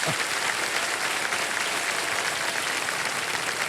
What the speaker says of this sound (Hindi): ये तालियां क्या बज जाए बात इनके लिए।